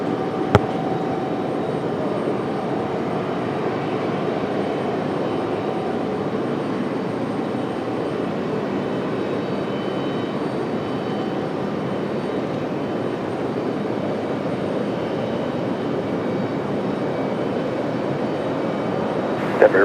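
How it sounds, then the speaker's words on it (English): An Airbus A220 jet arriving at Raleigh-Durham airport produces a steady, broad engine roar that holds evenly for about twenty seconds, moderately loud and somewhat distant, with no voices. "Here comes our A220 from Minneapolis."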